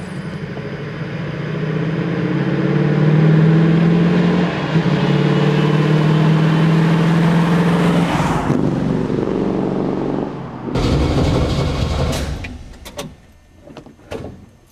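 A 1970 Buick Grand Sport muscle car engine drones loud and close, holding a steady roar before breaking into rougher, uneven bursts.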